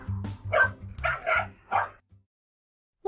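Cartoon dog from a pony comics dub barking in a rapid run of four or five close, loud yips and woofs, then falling silent.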